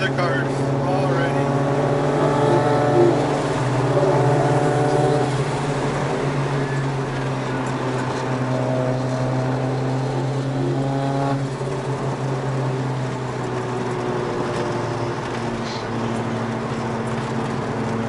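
Car engines drone and rise steadily as several vehicles accelerate together, with sustained harmonic engine tones that shift in pitch. The recording is made from inside a car with a turbo and a full 3-inch MagnaFlow exhaust, and a Honda is among the cars nearby.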